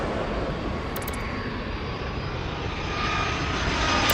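Continuous airplane engine drone from the Airport Madness airport game, a steady broad roar with a faint whine that swells slightly louder toward the end, heard alone.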